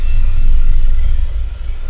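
A dense, steady low rumble with a faint airy hiss fills the space while travelling through the light tunnel in the video game No Man's Sky, loud and continuous, swelling slightly and easing near the end.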